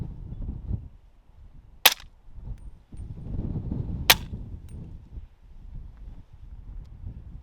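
Subsonic 338 ARC rounds fired from a CMMG Dissent rifle outdoors, two sharp suppressed shots a couple of seconds apart over low rumbling wind noise, with no talking.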